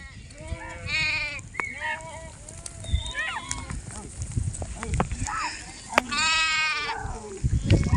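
A herd of goats and sheep grazes in the Gir countryside, with young kids among them. Repeated loud, wavering bleats come from several animals, near and far, over rustling and footsteps, and a person talks in between.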